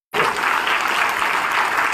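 Applause from an audience at a live public event with a Rajya Sabha MP from Rewa, starting abruptly and sustaining a dense, loud, steady wash of clapping alone.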